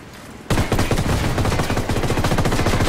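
Sustained rapid automatic gunfire in the tactical shooter game Ghost Recon Wildlands, aimed at oil towers, breaking in abruptly after a quiet moment and continuing as a loud, dense stream of shots.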